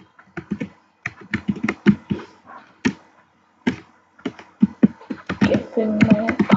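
A password typed on a computer keyboard: crisp, close key clicks in quick irregular bursts with short pauses, ending in a denser flurry of taps.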